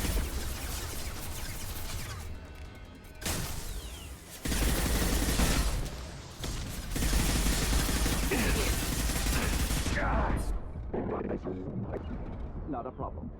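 Gunfire in the video game Mass Effect 2, with loud, dense bursts of rapid shots and mechanical clatter that come and go over several seconds before thinning out.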